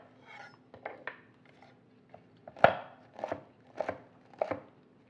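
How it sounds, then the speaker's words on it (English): A knife chopping already grated carrots on a cutting board for a healthy salad, about eight sharp, close taps in an uneven rhythm, with quiet pauses between them and no speech. "Just going to get a little handful of those and chop them up a little bit smaller."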